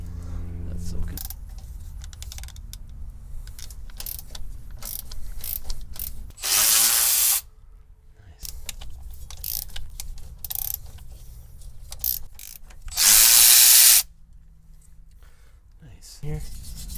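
Ratchet loosening a bump stop bolt on a Toyota 4Runner during a helper spring install, rapid clicking in bursts with two loud hissing bursts between them; a voice is faintly audible.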